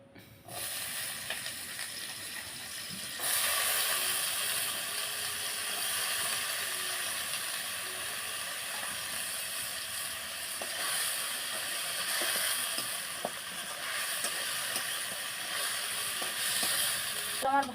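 Potatoes fry in a generous amount of oil in a kadai, a steady close sizzle and hiss that swells after a few seconds and holds throughout, with faint occasional clinks and no talking.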